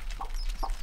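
Two short, soft clucks from a hen, spaced apart, heard close over a steady low background hum.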